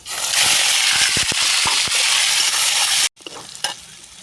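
Prawns frying loudly in hot oil with five-spice seeds (panch phoron), a dense steady sizzle with a few sharp crackles and pops, briefly cutting out before resuming.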